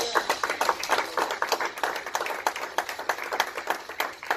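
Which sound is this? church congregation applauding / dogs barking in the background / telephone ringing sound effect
church congregation applauding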